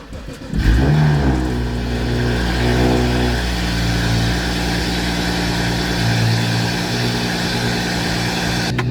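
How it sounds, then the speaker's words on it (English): An F30 BMW 335i with the N55 engine cranks and fires up close by, then settles into a steady, rumbling idle that runs to the end. "I'm gonna go ahead and just turn on the car."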